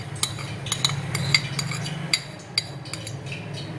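Dry flour, salt and black pepper for a chicken-wing batter get stirred with a spoon in a bowl, giving a run of quick light clinks and scrapes close by.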